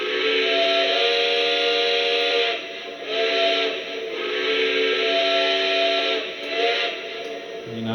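Default steam whistle of a Lionel Legacy Russian Decapod model locomotive, a loud sustained chord with two long blasts and a shorter third sounding close and alone, steady hiss underneath.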